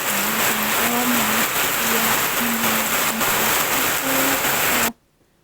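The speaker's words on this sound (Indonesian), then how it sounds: "Nah ini hujan ya teman-teman." Heavy rain falls in a steady loud wash outdoors, with a low engine hum and a faint rising whine underneath, ending abruptly in silence.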